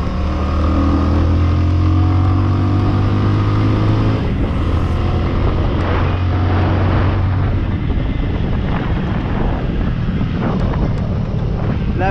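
A Bajaj Avenger 220 Street cruiser motorcycle on the road, its engine droning steadily under heavy wind buffeting, with a low engine tone that shifts pitch as the rider changes speed.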